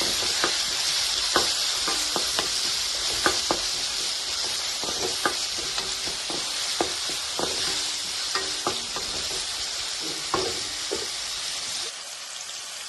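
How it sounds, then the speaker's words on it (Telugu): Finely chopped tomatoes fry in a pan for a moong dal and Malabar spinach curry, with a constant close sizzle under repeated sharp taps and scrapes of a spoon stirring, dropping quieter at the very end. "సన్నగా తరిగిన టమాటా వేసుకుందాం ఇది కూడా కొంచెం మగ్గాలి"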